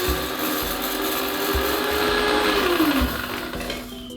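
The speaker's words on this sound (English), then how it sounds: "So 1/4 cup of roasted cardamom ground up." Roasted cardamom pods whirring in an electric spice grinder for Palestinian seven spice, a steady near motor drone with a rising pitch sweep and rattling grit, running continuously without talk.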